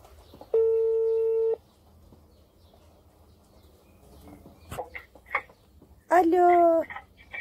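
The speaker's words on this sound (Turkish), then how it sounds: "Çalıyor." A telephone call rings out through the handset as two long, steady electronic ringback tones separated by a pause, loud and close, while a caller waits for a carpet-washing business to answer.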